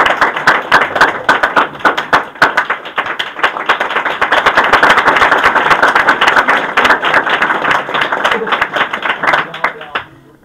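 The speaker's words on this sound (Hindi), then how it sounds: "एक जबरदस्त तालियों के साथ आप लोग स्वागत करिए" Audience applause greets a student at a school's New Year welcome ceremony, with dense rapid clapping building and holding for about ten seconds before fading out, a voice faintly audible underneath.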